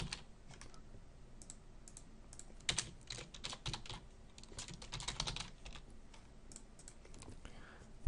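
Code being typed on a computer keyboard, with rapid clattering keystrokes in uneven bursts and a few sharper clicks, close and fairly quiet, over a low background hum.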